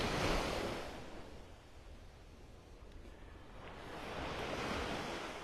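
Ocean waves wash onto a beach in North Naples, Florida, a steady broadband surf roar that swells at the start and again near the end, with light wind noise on the microphone and no voices.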